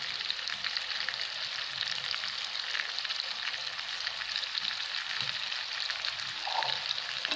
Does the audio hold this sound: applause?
no